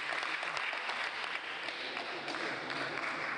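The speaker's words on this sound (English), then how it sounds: "Please, a round of applause for him." An audience applauds a student project presenter at a school innovation competition, with a continuous patter of clapping at a moderate distance and fairly low level.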